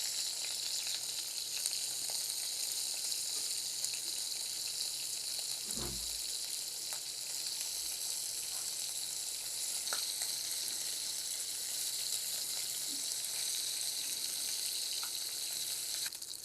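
Lote (Bombay duck) fish frying in oil, a dense, continuous sizzle held steady and close for the whole stretch, with an occasional faint knock from the pan.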